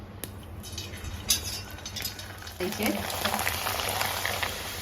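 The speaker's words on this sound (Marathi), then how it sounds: "पापड तळताना तेल हे चांगलं गरमच झालेलं पाहिजे म्हणजे मग पापड असे व्यवस्थित तळतात" Rice flour papad frying in hot oil in a kadai gives a continuous bubbling sizzle that swells louder and denser about halfway through, heard up close with no talk.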